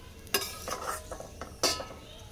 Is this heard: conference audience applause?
no